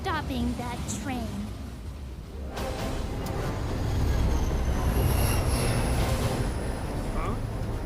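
A train rumbles along its rails in the animated series RWBY, a continuous heavy rolling roar that builds and stays loud, with speech heard at the start and a high wheel squeal toward the end.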